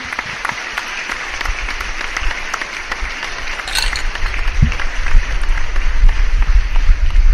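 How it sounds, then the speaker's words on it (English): A live Q&A audience claps, a loose smattering of applause that swells slightly midway, with some rustle and low thumps underneath. "Let me give you guys an applause."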